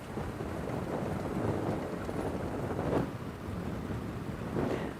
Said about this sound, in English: it's so windy here, it's become difficult to hear the questions coming through